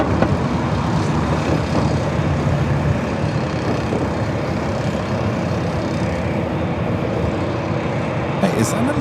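An airplane at LAX airport gives a loud, steady engine roar that holds throughout, with a few faint higher clatters near the end.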